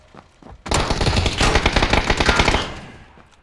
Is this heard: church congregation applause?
no